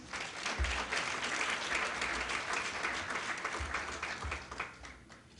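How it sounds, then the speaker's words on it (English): Audience applause at the Arab American Institute's National Leadership Conference in Dearborn, steady clapping from a room of people that holds at a constant level for several seconds, with occasional low thumps beneath it. "We can give them a round of applause."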